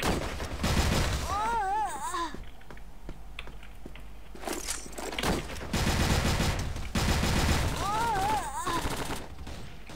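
Rapid bursts of gunfire ring out in a shooting video game, with dense crackling volleys that stop and start over several seconds. Electronic game effects and a voice are mixed in.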